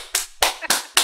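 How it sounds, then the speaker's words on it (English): A few slow, separate hand claps, close and fairly loud, spaced irregularly with short gaps between them, offered as mock applause during a casual art stream. "Here's applause."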